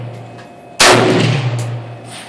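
A single sharp AK-47 rifle gunshot cracks loudly at close range over a steady low hum, followed by a long decaying echo.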